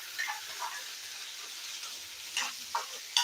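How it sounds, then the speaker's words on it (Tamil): Ginger garlic paste sizzles softly in a pan, with a few brief stirring scrapes and louder hissing bursts near the end, and no talking. "இஞ்சி பூண்டு பேஸ்ட் போட்டு நல்லா வதக்கிக்கலாம்"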